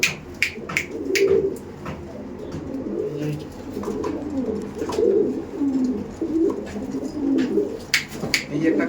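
Mangalagiri pigeons from Andhra Pradesh coo repeatedly in soft, low burbling phrases, with a few sharp clicks and rustles around them and no talking.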